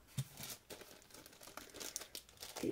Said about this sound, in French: Et on va ouvrir l'autre pochette